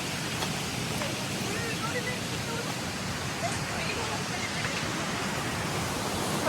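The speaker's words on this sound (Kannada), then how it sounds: "ಎಷ್ಟು ನೀರು ಸೌಂಡ್ ಕೇಳಿಸ್ಬೋದು ನಿಮಗೆ" A stream near Chikkamagaluru rushes in a steady, broadband roar. The wash of water is continuous and fairly faint, with no clear voices over it.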